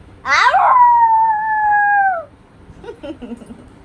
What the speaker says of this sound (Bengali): ডগিটা কেমন করে ডাকে শোনা